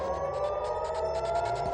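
Air raid sirens wail across Israel, a sustained, steady tone with a pulsing warble, loud and continuous throughout, with a faint low vehicle rumble beneath and no voices.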